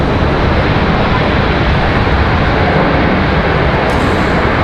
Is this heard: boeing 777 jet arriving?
yes